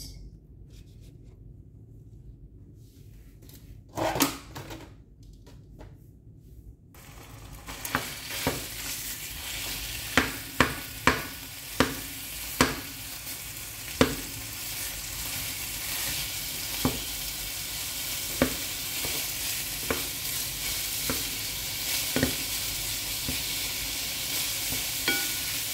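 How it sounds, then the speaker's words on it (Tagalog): Beef mince dropped into hot olive oil in a pan, starting quiet and then bursting into a loud, steady sizzle that fills the rest, broken by repeated scraping and stirring knocks, with no talking. "So, olive oil ang ginamit ko, guys. Once hot, ilalagay natin ang ating beef."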